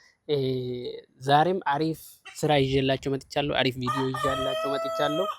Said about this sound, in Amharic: እንደምታዩት ዶሮች እየጮሁ ነው